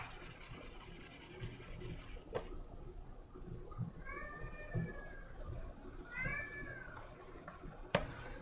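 A cat meows twice, muffled and distant as if from another room, with rising-falling cries over a quiet indoor background and a couple of soft clicks.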